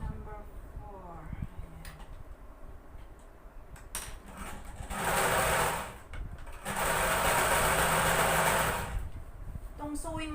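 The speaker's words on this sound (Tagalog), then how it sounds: "Itong sewing machine ko guys, ano na to, 16 years ko nang kasama to." A sewing machine sixteen years in use stitches a large pillow in two sustained whirring runs of rapid needle clatter, close and fairly loud, with speech before and between the bursts.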